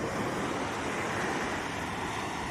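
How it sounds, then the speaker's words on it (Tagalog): Steady, continuous rush of ocean surf breaking near a sandbar in Santa Ana, Cagayan, with a broadband wash and some wind noise on the microphone, no voices. "Ang sarap pakinggan ng natural sounds ng kalikasan mga kalakbay, yung alon."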